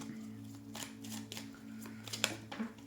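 Tarot cards being shuffled by hand: a few soft riffling bursts of card edges sliding together, close and quiet, with a faint background hum and no voices.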